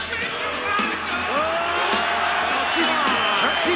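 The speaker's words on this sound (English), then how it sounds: "The hometown crowd went nuts for her." A hometown wrestling crowd roars for Torrie Wilson, a dense, steady wash of many voices with scattered whoops and shrill whistles rising above it, loud and sustained throughout with no single speaker standing out.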